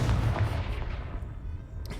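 Confringo spell explosion in the video game Hogwarts Legacy: a loud, rumbling blast with a deep boom that fades out over about two seconds, no talk.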